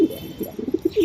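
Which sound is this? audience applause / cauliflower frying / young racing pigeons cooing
young racing pigeons cooing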